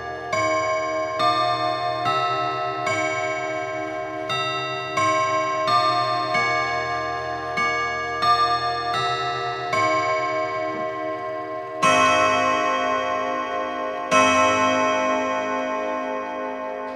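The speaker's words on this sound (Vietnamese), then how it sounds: "Một bộ gông thép dài tạo ra một cái độ âm rất là ngân và vang đúng không các bác?" Vedette antique clock with a chrome-plated case strikes a series of chimes on long steel gong rods, each ringing note sustained and overlapping, with a louder, fresh group of strikes toward the end.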